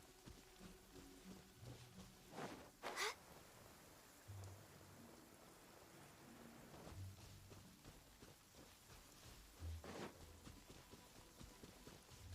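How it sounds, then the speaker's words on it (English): Rain falls steadily in a courtyard within the Genshin Impact video game, a soft, even patter heard faintly and alone, broken by a few brief louder splashes or thuds. "but I love listening to the rain from the courtyard"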